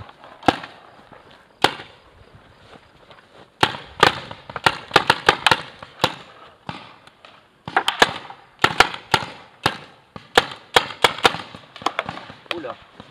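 Paintball markers popping during a game, with scattered single shots early on, then denser bursts of sharp cracks from several guns at mid distance.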